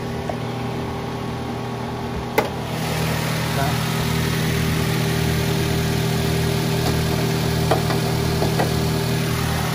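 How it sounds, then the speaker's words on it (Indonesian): A 2005 Daihatsu Xenia 1.3 Xi manual car engine cranks and catches with a brief click, then settles into a steady, even idle hum that continues unbroken. "Oke, kita buka start mesinnya."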